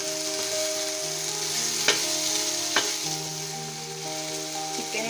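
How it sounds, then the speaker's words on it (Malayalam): Fried chicken pieces are stirred into sizzling biryani masala in a pan for semiya chicken biryani, a steady close frying hiss broken by two scraping strokes, with no one speaking. "നമുക്കിതിലേക്ക് ചിക്കൻ ഫ്രൈ ചെയ്ത് ഇട്ട് കൊടുക്കാം. ഇത് ഇളക്കുക."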